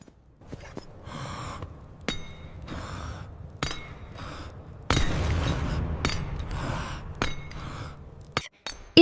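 Hammer blows strike a piece of freshly cast bronze, a series of bright metallic clinks and clanks spaced irregularly over a noisy background, with several loud impacts close together toward the end.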